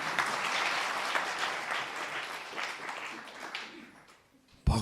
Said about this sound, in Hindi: फिर तालियां तो बजाओ फिर।